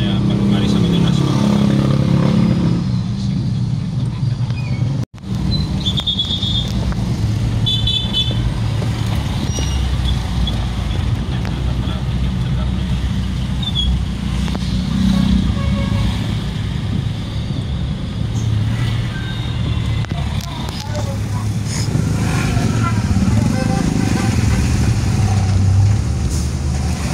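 Road traffic near a school, with cars and motorcycles passing in a steady, loud rumble of engines over the full stretch, with brief horn-like tones and people talking now and then.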